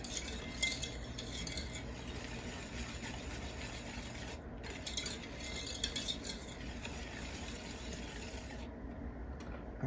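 Granulated sugar is stirred in a pan over low heat to dissolve it for caramel frosting, a quiet, continuous scraping and rubbing of a utensil against the pan with brief pauses.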